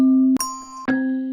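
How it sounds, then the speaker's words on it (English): Bell one-shot samples from icyjesse's one-shot kit play in quick succession, three sustained ringing tones with clean attacks, each cut off as the next begins, loud and alone. "You have some bells here."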